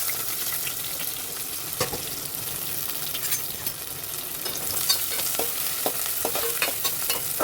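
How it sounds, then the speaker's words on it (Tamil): Onion, garlic and green chilli fry in hot oil with fennel seeds for a prawn curry, a steady close sizzle broken by scraping stirs of a spoon against the pan, with no talking. "இப்போ வெங்காயத்தை சேர்த்துக்கலாம் வெங்காயம் பூண்டு பச்சை மிளகாய் மூணுமே சேர்த்துக்கலாம்"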